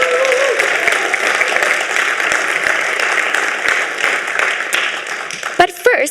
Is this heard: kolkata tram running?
no